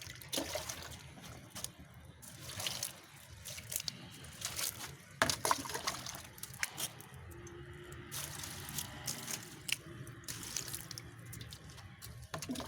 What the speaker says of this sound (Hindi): पानी के साथ गंदगी निकल रही है सारी